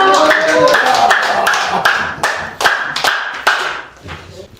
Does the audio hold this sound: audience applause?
yes